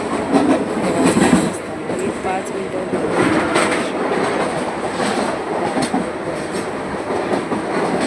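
A train runs along the tracks near Bandra, its steady rumble and clatter filling the whole stretch up close, with a voice speaking briefly over it.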